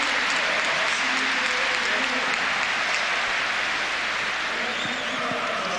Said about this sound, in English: and he replaces Iliev, who's going to get a deserved round of applause.